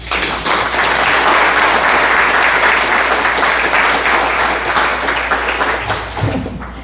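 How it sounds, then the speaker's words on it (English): An audience at a Democratic forum applauds lieutenant governor candidates in a loud, full round of clapping that holds steady for several seconds, then thins and tapers off near the end. "Please join me in giving them a warm thank you and round of applause."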